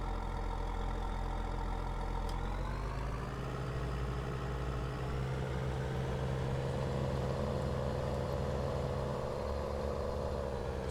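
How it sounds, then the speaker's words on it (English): Small tractor engine idling in Farming Simulator 19, a steady low rumble with a constant drone that holds evenly and loudly throughout, with no talk over it. "It is a good looking little tractor there."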